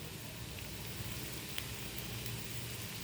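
Tomato goes into a frying pan for a pasta-style dish and gives a faint, steady sizzling hiss with small crackles, no voices over it.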